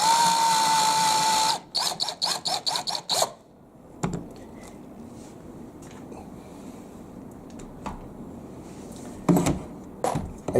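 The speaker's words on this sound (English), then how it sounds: "I'm going to go in there with a little quick countersink." A drill bores a countersink hole into wood while building a dog house: a sustained whine, then a run of short rapid bursts of drilling, followed by quieter scraping and handling noises nearby.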